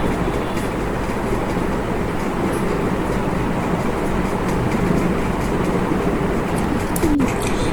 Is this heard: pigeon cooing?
yes